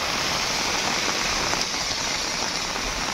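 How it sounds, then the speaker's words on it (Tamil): Steady rain falls outdoors near a cave in Kodaikanal, a dense, even hiss that stays constant and fairly loud throughout without voices. "மழை வருது வெளியே போகாதீங்க"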